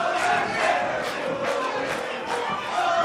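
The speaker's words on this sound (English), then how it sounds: "listen to this crowd showing appreciation" A large wrestling crowd cheers and roars loudly and continuously in an arena, a dense wash of voices rising and falling in waves without any single speaker standing out.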